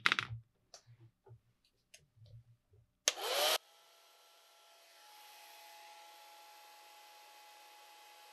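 A hair dryer blows steadily across a watercolor painting of a panda, a sustained whooshing hum that runs for several seconds after a short burst of handling noise and faint clicks.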